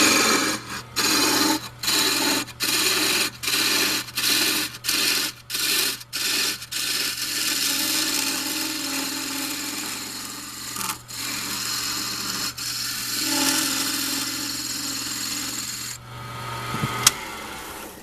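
Cutting tool turning a horn cup on a lathe, a steady close scraping rasp broken by a run of rhythmic brief pauses early on, then continuing unbroken with a constant low hum underneath.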